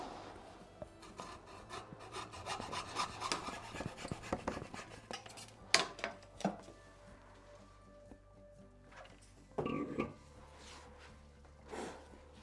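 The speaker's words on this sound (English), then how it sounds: "Get this off with my hacksaw." A hacksaw cuts through a silver maple blank in a woodturning shop with quiet, irregular rasping strokes, fairly close and soft, with a few louder knocks and pauses.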